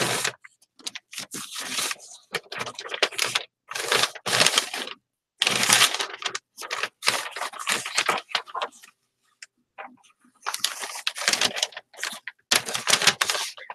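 Scissors cut through a huge piece of paper in loud, close bursts of crisp slicing and crunching, separated by short pauses.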